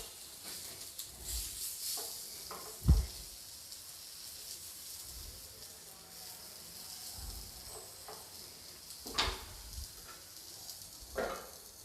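Soft, steady sizzle of stuffed bitter gourd (karela) frying in a pan, faint hiss with a few sharp clinks and taps scattered across, no talking.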